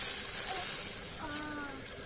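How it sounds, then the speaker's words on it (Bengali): Slit green chillies frying in hot oil, giving a soft, steady sizzle and hiss for a couple of seconds with a few faint tonal sounds in the background. "এখন দিয়ে দিলাম কাঁচা লঙ্কা চিড়ে, আস্তে আস্তে এটা ভাজা হবে"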